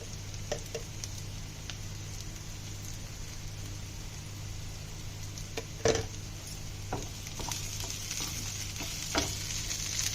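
Chicken sausage curry cooking in a pan with ginger paste, turmeric, salt and chili powder gives a steady low sizzle, with occasional soft scrapes and one louder knock of a spoon as it is stirred.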